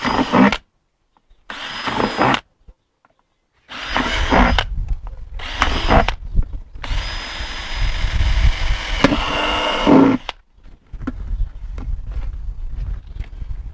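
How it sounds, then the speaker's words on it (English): A power drill whirs in several short bursts separated by silence while drilling drainage holes in the bottom of a plastic container, then runs in one longer grinding stretch before stopping. "drill some holes in the bottom"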